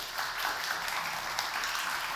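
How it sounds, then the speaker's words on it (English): A crowd applauding steadily, a dense continuous patter of many hands clapping at moderate volume for a couple of seconds. "Round of applause, please."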